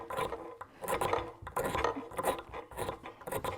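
A Light My Fire striker with a raised scraping edge drawn repeatedly along a ferro rod, giving a series of rough, rasping scrapes in an uneven rhythm, close up with no voices.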